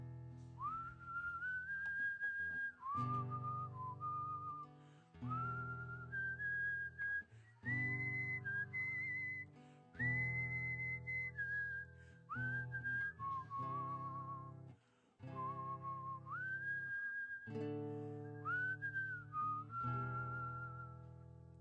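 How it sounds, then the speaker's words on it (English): An audience whistling a song's chorus together in a bookshop: a melody of sustained, sliding tones in repeated phrases with short pauses between them, clear and fairly loud, with no talking. "let's take some time and really get into it. Let's just do the whistling chorus part."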